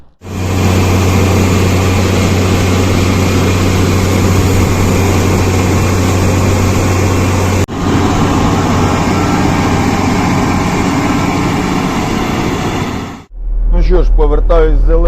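A hired combine harvester cutting a sunflower crop, its engine droning loud and steady with a deep low hum that runs nearly the whole time, briefly breaking once, before a voice speaks at the end.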